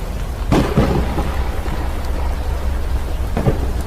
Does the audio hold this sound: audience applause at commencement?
no